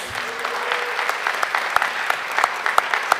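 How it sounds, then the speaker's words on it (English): Audience applause at a school district board meeting, a steady wash of clapping from a roomful of people with sharper individual claps standing out, continuous throughout with no talking. "let's give everybody another big round of applause."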